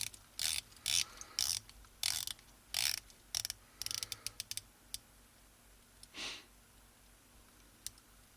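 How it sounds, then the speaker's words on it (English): Stainless steel 120-click unidirectional watch bezel being turned, giving bursts of quick, crisp ratcheting clicks in several short runs, close and fairly quiet, then a few isolated clicks. "We've got a stainless steel bezel, 120 click unidirectional."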